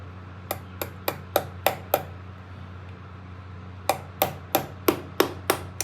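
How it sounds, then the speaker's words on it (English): A box cutter taps against the timing cover of a 1971 Norton motorcycle to break it free, giving two bursts of about six sharp metallic knocks each in a quick steady rhythm, separated by a short quiet gap. "we just hit 3 different places with the box cutter, and it just loosens this up"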